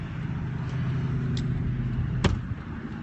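Steady low engine and road rumble inside a car driving back to work, with a couple of faint clicks and one sharp tick over the continuous cabin hum.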